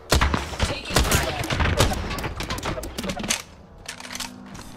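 Video game gunfire: dense, rapid crackling shots in a near-continuous close barrage that tapers off toward the end, giving way to quieter game sounds and a low hum.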